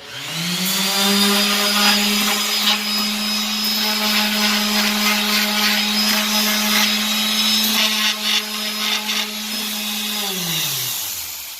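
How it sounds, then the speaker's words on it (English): Handheld power sander rounding the edges of a wooden cap rail piece to a 1/8 inch radius, a steady close whine that runs continuously for about ten seconds, with rough scraping texture and a slow wind-down at the end. "Sand those edges up nice and round before you glue that on."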